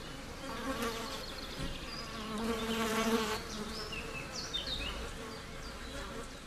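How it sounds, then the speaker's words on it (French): Flies swarm around a golden eagle nest, pestering the eaglet with a continuous droning buzz that swells and fades slightly as individual insects pass close. "L'aiglon est harcelé par les mouches qui perturbent aussi le sommeil de la chouette"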